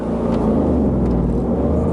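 A 2013 Ford Focus EcoBoost accelerates hard from a standstill toward 60, heard from inside as a loud, steady low engine drone with a rising hum and road rumble and no talk over it.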